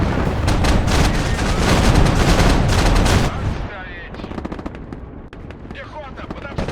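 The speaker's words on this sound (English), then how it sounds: "A twin 23mm just going to work." A Screzet twin 23mm anti-aircraft gun fires in the Broken Arrow war game, a loud rapid hammering stream of shots for about three seconds, then sporadic distant gunfire and battle noise.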